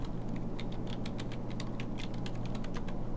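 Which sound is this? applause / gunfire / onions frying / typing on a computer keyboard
typing on a computer keyboard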